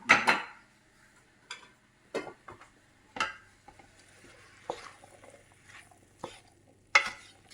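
A spoon scooping food out of a pot or dish during a meal, with a close, quiet series of separate scrapes and clinks spaced about a second apart and no talk.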